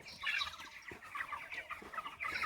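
A flock of 23-day-old broiler chickens clucks and chirps continuously at close range, with overlapping calls and occasional soft thumps.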